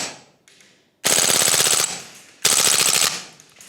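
A Vorsk VMP2 gas blowback airsoft rifle fires two rapid full-auto bursts, each a loud, close rattling string of snappy shots lasting under a second, separated by short pauses.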